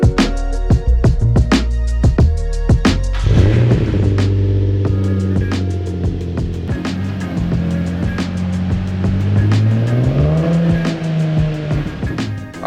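A Nissan 350Z engine runs after a full fluid flush, steady idle with a few short blips and revs, its droning tone rising and falling slightly, close and loud, with no talk.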